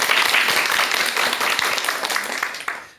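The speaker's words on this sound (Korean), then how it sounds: "큰 박수와 함께 강의 지금부터" Sustained audience applause from a lecture crowd, dense and steady for about three seconds before fading out, with no talking over it.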